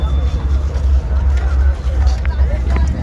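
A large crowd of Bol Bam pilgrims gathered in Chhattisgarh, heard as a steady, dense hubbub of many overlapping voices and movement, with a constant low rumble underneath throughout.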